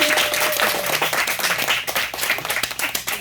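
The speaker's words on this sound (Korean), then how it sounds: "우리 단장님께 박수 한번 보내드릴게요" An audience at a church summer retreat gives its leader a round of applause, dense and steady clapping filling the room, close and fairly loud.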